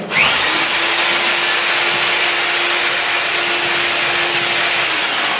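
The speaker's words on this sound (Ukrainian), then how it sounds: "невеликі об'єми просто можна перфоратором або дрелю з вінчиком заколачується" An electric drill fitted with a whisk mixes plaster mortar for hand plastering, a loud, continuous motor whine with a gritty churning rasp that holds steady for several seconds before winding down.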